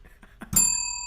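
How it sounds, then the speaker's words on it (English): A single bell strikes once with a bright metallic ding, then rings on in a long sustained shimmer after some faint rustling. "That's the bell."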